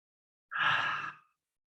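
A single long, breathy exhale, like a soft sigh, swells suddenly and fades over under a second, close and alone against silence while the palms are rubbed together.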